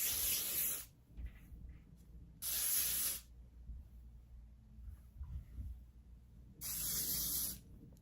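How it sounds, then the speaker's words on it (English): Hair spray hisses onto wig curls in three separate bursts, each about a second long and close by, with quiet handling noises between them. "I'm gonna go in and lightly spray this just so the curls won't fall."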